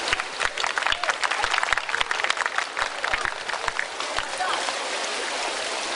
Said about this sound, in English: let's give a round of applause for Mr. Zinling